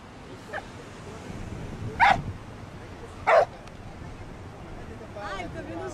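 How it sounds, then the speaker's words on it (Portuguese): Dogs bark a couple of times at mid distance, two short sharp bursts standing out over steady outdoor background noise and chatter at a landing area near Rio de Janeiro. "E aí quando ele quer fazer alguma coisa, ele late, esse aqui late."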